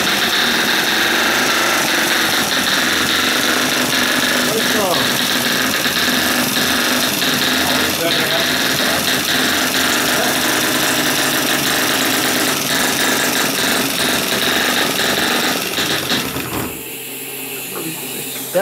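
A generator engine runs steadily and loudly in a workshop for about seventeen seconds, a continuous droning hum with mechanical rattle and vibration, then cuts off abruptly near the end, leaving near silence.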